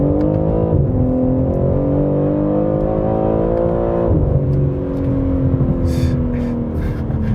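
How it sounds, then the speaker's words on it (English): A BMW M3 Competition accelerates hard in a straight line, its engine note climbing steadily through the gears with quick shift breaks, loud and close from inside the car. "I'm gonna get a straight line acceleration here again"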